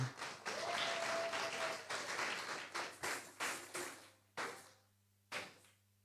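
Church congregation clapping and cheering together in loud, dense applause that fades out in short bursts near the end, with a faint sustained tone underneath.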